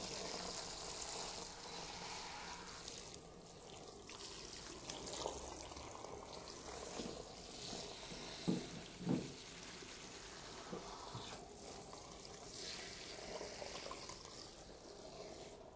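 Warm water sprays from a shower head during a hair shampoo, a soft steady hiss and trickle with a few splashy bursts midway, fairly quiet and without talk.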